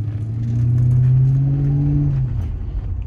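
A Ford Panther platform car starts to move, its engine note rising in a low hum that swells for about two seconds, then settles, heard close and alone.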